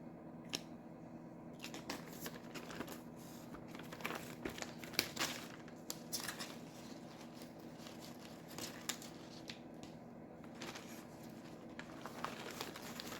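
A gallon Ziploc plastic bag holding lettuce is rolled up by hand, giving soft, close crinkling and rustling in irregular bursts over a quiet room.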